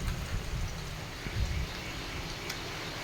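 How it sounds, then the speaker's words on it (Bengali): Steady, soft rain hisses continuously, with faint patters in the background throughout. "বৃষ্টিও পড়ে গেছে ওদিকে"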